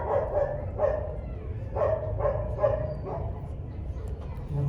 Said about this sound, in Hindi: ये बीच में एक चौकीदार का यहाँ फ्लैट का कुत्ता ये काफ़ी डिस्टर्ब कर रहा है